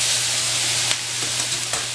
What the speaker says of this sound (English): I can add a little bit of water, and that will just create that steam